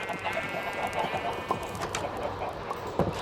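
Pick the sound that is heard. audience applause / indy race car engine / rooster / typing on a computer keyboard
rooster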